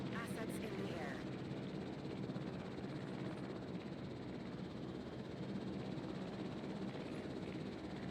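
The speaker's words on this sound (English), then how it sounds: "We'll just let these choppers definitely get the dinosaurs up and out of the way." Video-game helicopters airlift dinosaurs in Jurassic World Evolution, their rotors a steady, dense whir that holds evenly throughout, with a few brief sharper blips at the start.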